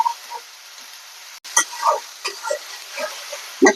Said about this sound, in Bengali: মশলাটা কষাই